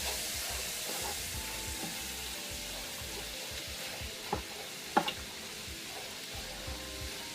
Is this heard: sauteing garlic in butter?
yes